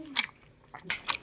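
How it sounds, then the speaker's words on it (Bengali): Close, soft chewing and biting of rice with gourd greens, a few brief moist bites spaced apart, with a voice talking over them. "খাওয়া চলছে লাউ শাক ভাতে"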